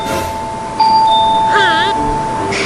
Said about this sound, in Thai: กดกระดิ่งเรียกพี่บัวก่อน